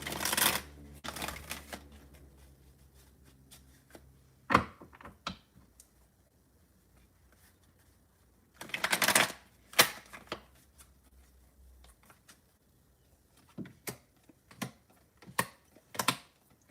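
Tarot cards are shuffled and drawn in several short, crisp flurries of riffling and slapping, separated by near-silent pauses, quiet and close.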